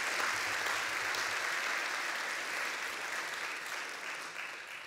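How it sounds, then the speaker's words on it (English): Audience applause fills a university State of the University address, a dense, steady clatter of clapping from a large crowd that holds for several seconds and eases slightly toward the end. "Let's give them a round of applause as well."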